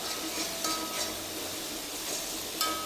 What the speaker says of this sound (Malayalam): ഇഞ്ചിയും വെളുത്തുള്ളിയും കൂടെ അരച്ച പേസ്റ്റ് ഇട്ട് കൊടുക്കാം കേട്ടോ അതിൻ്റെ പച്ചമണം മാറിന് വരെ ഒന്ന് ഇളക്കി കൊടുക്കുക